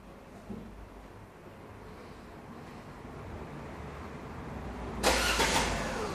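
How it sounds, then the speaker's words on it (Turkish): A Fiat Egea car engine starts up near the end, a sudden loud broadband burst after several seconds of steady low rumble and background noise, then settles into a running engine. "Çalıştırın aracı."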